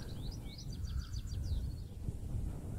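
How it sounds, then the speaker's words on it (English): Birds sing outside a tiny flint-built 13th-century church in rural Dorset, England, a few faint, quick chirping phrases rising above a low background rumble. "you can hear the birds singing."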